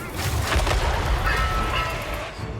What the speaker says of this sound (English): To the insane and terrifying power of the Dreadquake mortar.